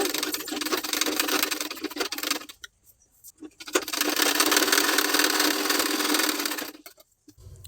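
A sewing machine stitches lining to the main fabric of a sleeve in two fast, buzzing runs, with a short quiet pause between them and a brief stop near the end.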